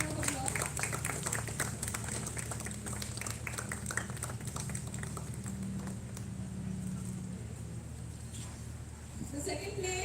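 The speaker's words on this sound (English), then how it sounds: "Please give her a big round of applause" Audience applause for a prize winner at a Konkan fruit fest in 2023, a steady wash of many hands clapping that runs throughout at moderate level, with a low hum beneath and a brief lull near the end.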